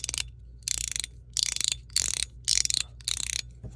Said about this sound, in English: So PEI, because it's a plastic, it really reverberates, clicks and clacks.